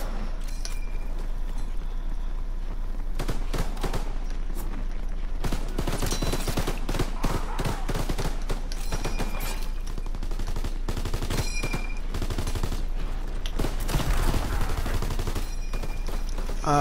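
Dense bursts of gunfire from a Call of Duty WWII Zombies match, repeated volleys and rapid machine-gun fire crowding the scene with game noise throughout, loud and continuous with no talking.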